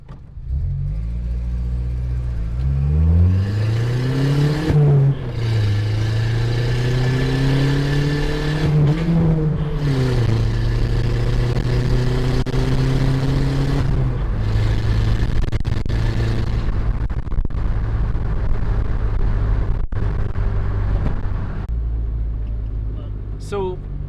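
A turbocharged Volkswagen Jetta engine drones and rises in pitch as the car drives between second and third gear, steady and close, with a voice talking over it.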